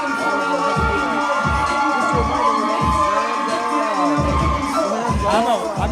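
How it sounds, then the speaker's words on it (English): A loud crowd at a kids' grappling event cheers and shouts continuously, dense and close, with rhythmic surges of voices throughout. "I'm having a hard time hearing you with this crowd."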